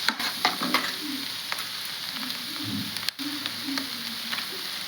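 Vegetables for street-style egg noodles fry in a pan with a constant bright hiss, while a spoon scrapes and tosses them in quick, irregular strokes close by; nobody speaks.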